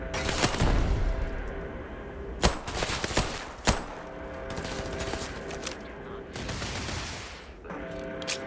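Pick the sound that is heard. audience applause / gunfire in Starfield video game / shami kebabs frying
gunfire in Starfield video game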